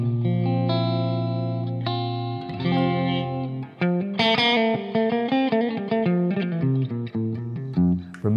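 Electric guitar with a humbucker pickup played through an amp with reverb added, a sustained chord ringing out, then a run of rapid single notes and chords, loud and close with a lingering wash of reverb and no speech.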